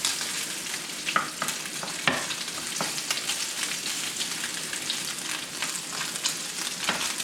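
Guanciale frying in a pan for bucatini alla carbonara, a steady close sizzle and crackle with occasional sharper pops and stirring scrapes, no voices.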